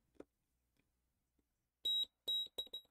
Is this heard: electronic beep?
yes